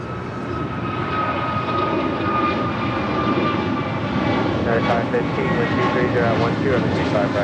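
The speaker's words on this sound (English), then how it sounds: "Our next departure here on the south side, American Airlines flight 2725, heading to Reagan National on an A321neo" An American Airlines Airbus A321neo departs from the south side at Los Angeles airport, its jet engines producing a loud, sustained roar with a thin whine on top, while a voice talks over it.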